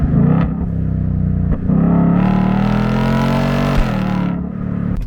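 A 2024 Ford Mustang GT V8 blips its revs on a downshift, a loud close growl that swells, dips briefly and flares again before settling.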